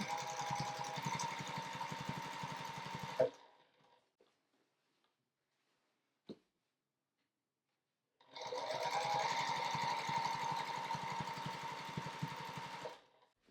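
A sewing machine quilting through a finished quilt runs in two steady rapid bursts of stitching, separated by a silent pause with a single small click, close and clear.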